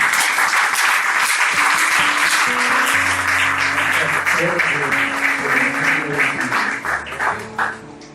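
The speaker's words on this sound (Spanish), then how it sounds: "bríndele un aplauso al Señor" A church congregation applauds in sustained, dense clapping through a Sunday service, with music tones and some voices underneath, fading slightly at the end.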